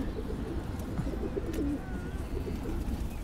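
Pigeons in a breeder's setup coo softly in low, repeated throaty calls against a steady background hum, with no one speaking.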